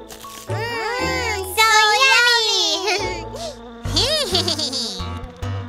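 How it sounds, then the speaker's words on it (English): Cartoon mosquito buzzing, a loud, wavering high whine that swoops up and down in pitch across several bursts, layered with a childlike voice and music. "Oh no! It's a mosquito!"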